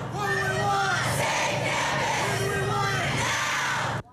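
Crowd of university students shouting and cheering together at a rally outdoors, a loud sustained roar of many voices with individual yells rising above it.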